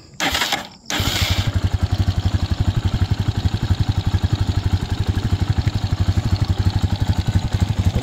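A Rusi Macho 175 motorcycle engine starts after a brief crank, then settles into a loud, steady, close-up idle with a rapid thumping rhythm.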